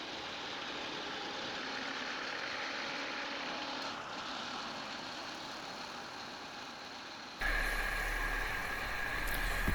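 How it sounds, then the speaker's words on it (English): A tractor engine drones steadily at close range, pulling a 72-inch brush hog mowing three-foot-tall grass behind it; the machinery grows louder and harsher toward the end. "let's start bush hogging"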